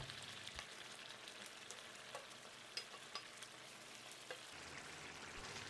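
Fried coconut and paneer are stirred into a boiling gravy, producing a quiet, steady sizzle and bubbling with a few soft clinks and scrapes of the spoon against the pan.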